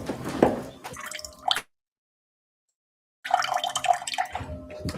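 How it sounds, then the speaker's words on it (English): Cold water runs from a kitchen faucet, a steady, splashing, dripping flow cut by a couple of seconds of dead silence before it resumes, with no talk. "This is our cold water pressure in the kitchen."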